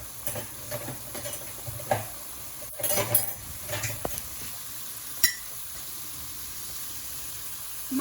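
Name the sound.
beans and radish sautéing in a pan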